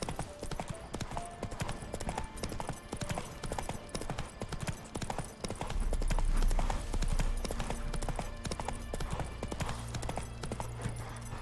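Roach the horse galloping in Witcher 3, a fast steady run of hoofbeats over a busy, dense game soundscape that grows heavier and lower midway.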